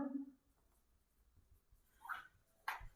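Brief scratchy strokes of writing on a board during a maths lesson, two short bursts after a quiet pause, faint and close.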